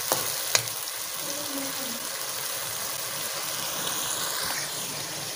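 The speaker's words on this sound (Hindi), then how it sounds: "अभी इसको थोड़ा सा भून लेते हैं और साथ में डालते हैं बाकी मसाले" Spice paste for chicken kofta gravy frying in a pan: a soft, continuous sizzle and crackle with a faint clink early on, heard at low level without talk.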